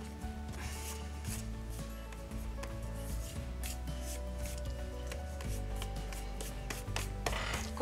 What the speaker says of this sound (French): je vais venir gommer mon trait.